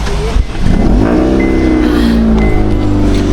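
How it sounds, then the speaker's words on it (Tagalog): Heavy trucks roll past on a roadside, a loud, steady engine rumble with a rising whine as one vehicle accelerates through the middle, continuous and close. "Daming truck."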